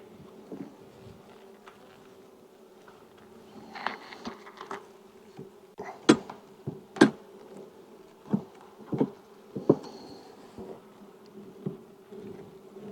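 Honey bees buzz around an open hive during a post-super check, with a steady low hum and repeated near passes of single bees whining close to the microphone.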